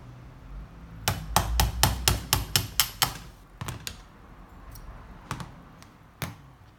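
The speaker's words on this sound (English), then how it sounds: "Punch the main pin with the punch it and a hammer." Hammer striking a punch to drive the main pin out of a WE PDW gas blowback airsoft gun: a quick run of about eight sharp metallic taps, then several spaced single blows, close and clear with no talk.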